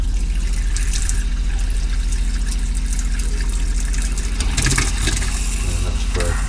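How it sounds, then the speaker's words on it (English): Water runs steadily into a boiler being refilled, a continuous close wash of rushing, splashing flow with a low mechanical hum beneath it throughout. "Fill the boiler up."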